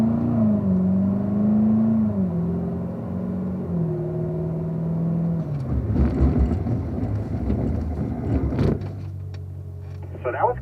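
A Corvette makes a braking exercise run at Spring Mountain, its engine droning steadily and shifting pitch before a rougher burst of tire and brake noise, then settling into a low idle; a voice speaks faintly underneath.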